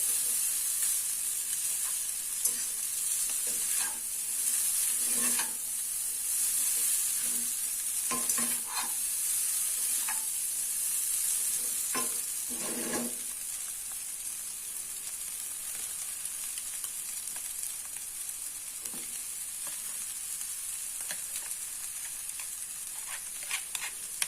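Bean sprouts fry in a pan with a steady sizzle and hiss as a spatula scrapes and stirs them in bursts, close by, while mi goreng is being made.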